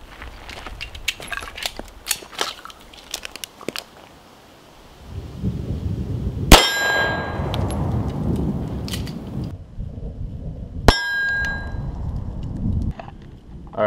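.45 ACP rounds strike a steel target, two sharp, loud metallic impacts cracking out several seconds apart, each followed by a rumbling, booming tail, with scattered clicks and handling noise before the first hit.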